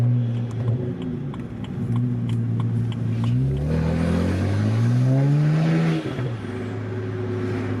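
A straight-piped twin-turbo BMW with ARM downpipes revs hard between buildings, a loud rising and falling engine roar with a sharp climb mid-clip before settling back to a steady idle.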